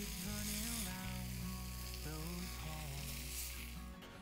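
Mutton seekh kebabs cook in a pan, placed close together, making a soft, even sizzle that holds steady throughout, with quiet tonal background music.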